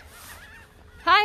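Goose-like birds honking at an outdoor seining site, one loud nearby honk bursting out after quieter background murmurs and faint calls.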